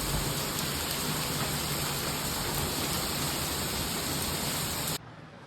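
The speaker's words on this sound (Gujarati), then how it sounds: "એવો પવન, એવો વરસાદ ધોધમાર પડે છે" Heavy rain and strong wind pour down in a dense, steady roar with no letup, cutting off abruptly at the end.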